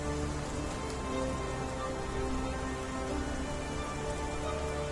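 Steady, even rain falls on a surface throughout, a dense unbroken hiss with no voices.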